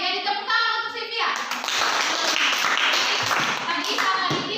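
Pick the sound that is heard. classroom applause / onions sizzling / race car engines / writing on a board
classroom applause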